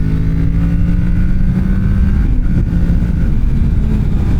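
A Kawasaki Ninja 650 motorcycle engine runs loud and close, a steady throaty drone whose pitch eases slightly downward with no voices over it.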